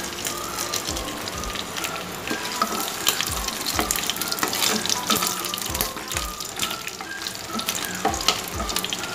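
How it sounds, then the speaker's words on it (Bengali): Panch phoron, two bay leaves and two dried chillies splutter in hot oil for a pineapple chutney: a dense, continuous sizzle broken by frequent sharp pops and crackles, close by and lively. "এখন আমি এর মধ্যে দিয়ে দিলাম পাঁচফোড়ন, দুটো তেজপাতা, দুটো শুকনো লঙ্কাকে আমি ফাটিয়ে দিলাম।"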